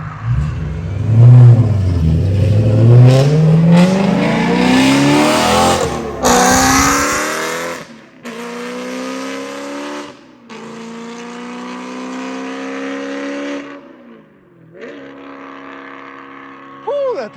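A BMW E92 M3 with the S65 V8 revs hard, rising and falling through several loud, sharp pulls with short gaps between them, heard close up with some talk mixed in.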